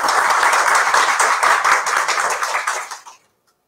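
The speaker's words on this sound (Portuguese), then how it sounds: "Palmas para ela, pessoal." An audience at a psychology education talk claps for a speaker, a dense close burst of applause that holds steady for about three seconds and then cuts off abruptly into silence.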